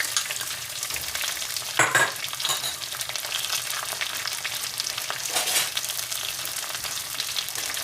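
Curry leaves, garlic, green chili and ginger crackling in hot oil for a cherry pickle, a steady close sizzle with a sharp burst of spitting near the two-second mark and occasional stirring scrapes, no talking.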